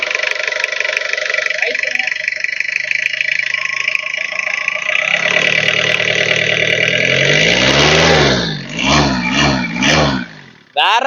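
A car engine runs at a steady idle, loud and close, then briefly revs up and down a few times toward the end.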